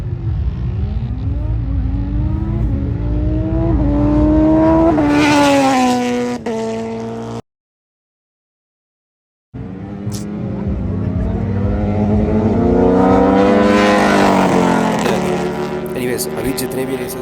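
Superbikes and supercars accelerating hard at a drag race meet in India, loud rising engine roars sweeping up through gear changes, with a short silent gap between two long runs.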